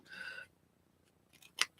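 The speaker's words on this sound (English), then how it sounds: "So I'm just trimming the excess off. And just kind of going up the edges." Two crisp scissor snips trim excess paper off the edges of a handmade mixed-media envelope, the first a short drawn-out cut and the second a sharp close click after a brief pause, nearby and quiet.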